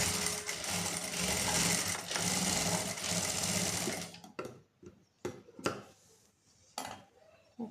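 A sewing machine runs steadily for about four seconds stitching across a pant pocket, then stops, followed by several short clicks and bursts as the work is adjusted.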